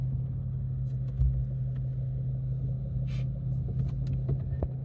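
A car engine reversing on a dark forest road in Masinagudi at night, a steady low rumble close by with a few faint knocks and no talk over it.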